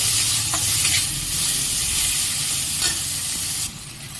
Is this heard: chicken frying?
yes